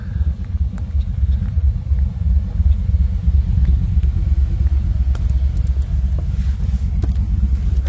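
Pickup truck driving down a road, heard from inside the cab as a steady low engine and tire rumble, loud and continuous with a few light clicks and rattles over the top, and no talking.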